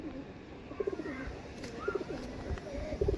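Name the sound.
pigeon cooing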